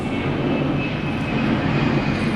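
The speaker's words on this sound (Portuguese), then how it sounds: "mais um avião" A fixed-wing airplane flying overhead, a steady, loud broadband engine roar that holds evenly throughout without fading, with no voices over it.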